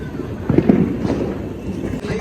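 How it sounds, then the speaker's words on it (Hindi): A Diwali firecracker bursts outdoors at night with a few loud, close pops in quick succession amid background noise and people talking. "वो तब से एक ही पटाखा जलाने की कोशिश कर रहे हैं, जो एक तो अभी मतलब फटते फटते बच जाए एकदम नीचे ही पापा के सामने पर"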